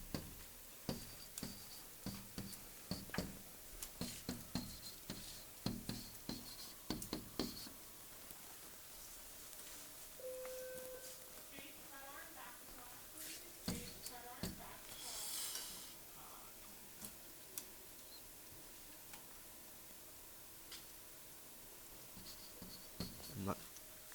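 A pen or marker scratches out numbers while working a math problem, with bursts of quick strokes and taps, a voice speaking intermittently in a quiet classroom.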